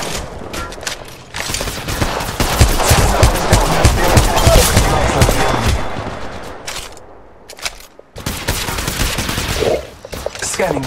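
Sustained automatic gunfire in a firefight in the Apex Legends Mobile video game, dense bursts of loud close shots rattling for several seconds, then a brief lull and another burst of fire.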